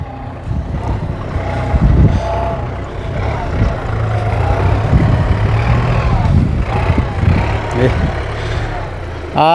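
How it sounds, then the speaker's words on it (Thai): A new New Holland TT3.50 tractor with a three-cylinder engine works while ploughing a field, giving a steady, loud low rumble throughout with wind buffeting the microphone. "มาดูนิวฮอลแลนด์ตัวนี้ครับผม เครื่องยนต์ให้มา 3 สูบครับผม"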